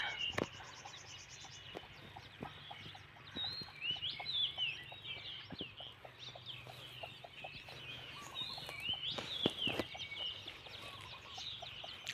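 Laying hens cluck on a garden farm beside a canal, with repeated soft clucks and some sharper calls scattered through a quiet outdoor setting.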